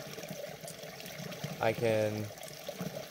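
Water trickles and pours steadily through a filter into a half-full one-liter squeeze bag on a backpacking trip, a soft continuous flow with a brief spoken voice over it.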